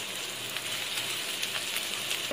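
Onions softening in a pan as chicken curry is prepared, giving a steady, moderate sizzle of frying that holds evenly throughout with faint crackles, no voices.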